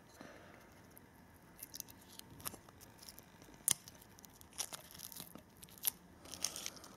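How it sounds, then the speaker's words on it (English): Protective blue film peeled off the metal back of a 1:200 Gemini Jets Hawaiian Airlines 767-300ER model airplane, giving faint intermittent crinkly tearing and crackling sounds over quiet room background, with no talking. "in this blue film here to protect the metal on the back, which I'll just take off now"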